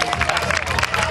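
An audience at a regional beauty pageant final claps and cheers in a brief, dense burst of applause, heard close and lively.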